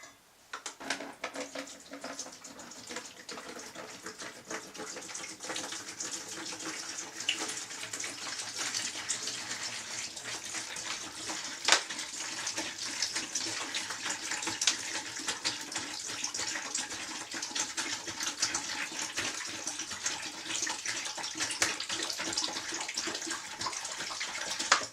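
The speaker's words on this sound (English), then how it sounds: "fill it with 4 pints of bottled water." Bottled water pours steadily into a bucket for a mead batch, a continuous soft splashing and gurgling stream that stays even and close, with a few faint clinks of the container.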